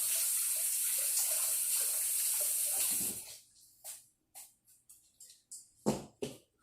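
Tap water runs steadily into a kitchen sink as a container is rinsed out, then shuts off after about three seconds, leaving a few faint knocks and handling sounds nearby.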